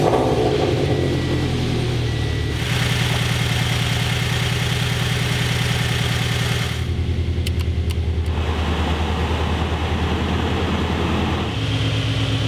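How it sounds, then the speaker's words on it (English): A Scion FR-S/Toyota 86 engine idles with a steady low rumble, briefly shifting pitch midway as if revved lightly, then settling back to a constant hum. "Next step is to turn on your car and put the heater on full"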